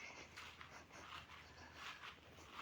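Dog in the woods making soft, breathy whimpers and panting, faint and continuous with light rustly outdoor background and no talking.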